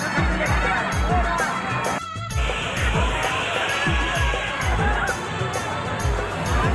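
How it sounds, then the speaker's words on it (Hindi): A dense, noisy crowd at the Rath Mela fair in Ranchi, a steady babble of many voices close around, with thumping beats and other fair noise underneath. "खतरनाक भीड़ है, सब देखिए"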